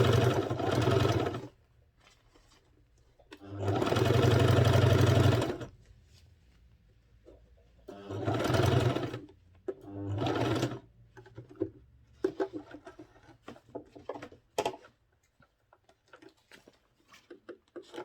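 A sewing machine stitches a men's senator wear garment in a few loud bursts of fast stitching separated by quiet gaps filled with soft fabric handling and clicks.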